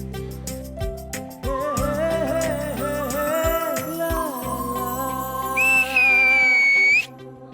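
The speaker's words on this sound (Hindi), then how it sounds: "सीटी क्यों मारी?" Someone whistles in a comedy drama scene, a clear, loud, warbling tune over a musical backdrop that ends in a long, high sustained note before cutting off.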